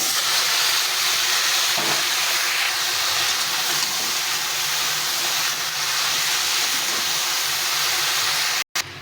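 Mixed vegetables sizzle in oil in a pan while a vegetable curry is cooked, a steady loud hiss and crackle that carries on unbroken before cutting off sharply near the end.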